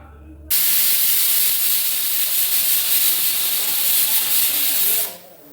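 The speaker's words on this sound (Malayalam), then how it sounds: "2 വിസിൽ വന്നിട്ടുണ്ട്." A pressure cooker on the stove releases steam in a loud, continuous hiss that starts abruptly, holds steady for several seconds, then fades out as the vent quiets.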